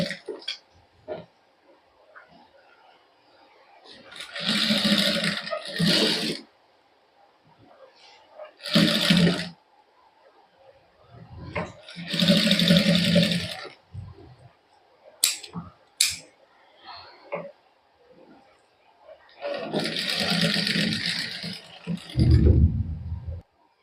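A sewing machine stitches the neckline of a women's garment in a Punjabi boutique. It runs in short, close, rattling bursts of a few seconds each, separated by pauses, across the whole stretch.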